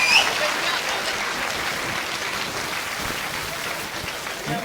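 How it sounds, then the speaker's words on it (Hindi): Steady applause from a crowd at a Hindi poetry gathering in Udaipur fills the whole stretch, a dense even patter of clapping at moderate volume. "जोरदार तालियां बजा के आप उन्हें पुनः आमंत्रित करें।"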